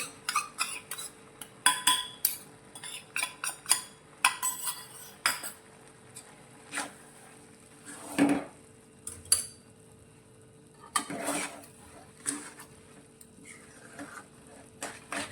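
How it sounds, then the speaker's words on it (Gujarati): A spoon scrapes and clinks against a pot while grated coconut is stirred into a bottle gourd (lauki) sweet, giving a steady run of irregular metallic taps and scrapes, close and fairly quiet, with no talking. "બધું સારી રીતે મિક્સ કરી લઈશું."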